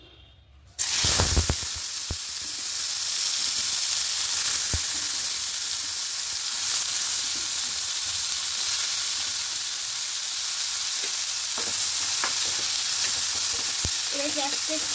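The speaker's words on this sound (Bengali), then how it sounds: "এবার তেলের মধ্যে বেগুনগুলো দিয়ে দেব।" Eggplant slices drop into hot oil with a sudden burst, then fry in a loud, steady hiss and crackle that holds throughout, with a few faint clicks of utensils.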